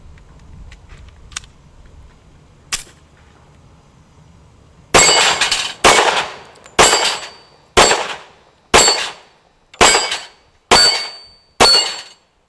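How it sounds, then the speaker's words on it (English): Eight sharp, loud gunshots from a Glock 27 pistol chambered in .40 S&W, fired on a shooting range at a steady pace about one per second, each with a short ringing decay, following a few quieter knocks. "we took the 27, the Glock 27, out to the range, and I had a lot of fun with it"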